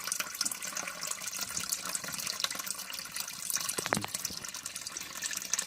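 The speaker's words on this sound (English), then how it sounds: "You see how fast that sump's filling up." Water filling a basement sump pit, a continuous hiss and gush of running water that stays fairly quiet and steady throughout, with one brief louder splash partway through.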